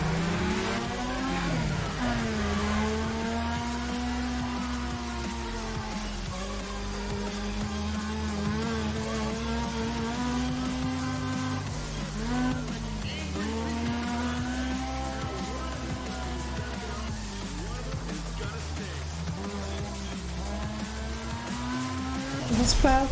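A race car in Need for Speed ProStreet revs and shifts through gears continuously, its engine note rising and falling in repeated sweeps, loud and close, with occasional tire squeal and a voice talking over it.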